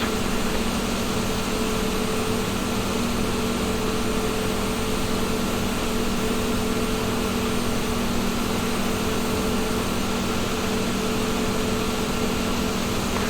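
A Mi-24P Hind attack helicopter in the DCS flight simulator runs through engine start-up, giving a steady, even whine and turbine roar with a low hum beneath it, unchanging and continuous.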